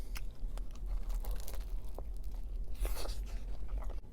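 Crisp bites and crunching into the crust bottom of a Sicilian pizza slice with a soft center, close and sharp, several crackling snaps over steady chewing noise.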